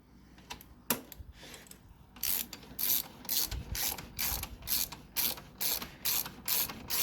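A socket wrench ratchet tightens a bolt in short bursts of rapid, crisp clicking, repeated about a dozen times in a steady rhythm, close and clear with no talking.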